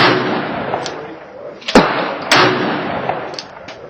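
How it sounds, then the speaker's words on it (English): A 12 gauge shotgun fires two sharp, loud blasts about half a second apart, each with a quick decay, over quiet outdoor background noise. "Shooting the 12 gauge was really fun"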